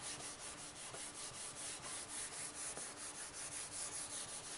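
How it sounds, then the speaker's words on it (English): Rhythmic rubbing on the back side of a stationery book page, a faint, close, papery swish repeating in quick even strokes, with no voices. "So then you can flip it over and you can rub the back side."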